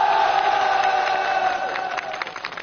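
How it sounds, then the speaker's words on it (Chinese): A crowd at a Chinese army New Year stage show applauds and cheers as soldiers come onto the stage, a loud, dense burst of clapping and voices that eases slightly toward the end. "掌声把他们请上台"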